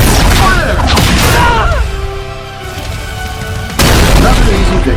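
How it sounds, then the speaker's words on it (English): Repulsor wide blast attack in a superhero fighting video game, a loud booming energy blast with crashing impacts, a humming lull, then another heavy burst; a voice can be heard briefly. "Repulsor ready! Here comes the move! Wide blast! Fire!"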